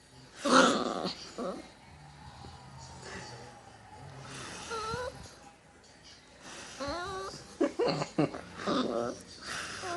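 A dog growls and snorts with heavy, wheezy breathing, its rumbling bursts rising and falling in close, uneven spurts.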